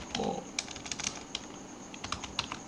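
Keys clatter on a computer keyboard in quick, irregular bursts of typing with sharp separate strokes, a brief tonal hum near the start, then a few more keystrokes spread across the remainder, close and moderately loud.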